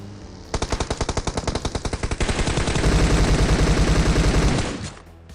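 Rapid automatic gunfire from PUBG Mobile, a fast string of loud, distinct shots that merges into a dense, continuous burst before stopping abruptly near the end.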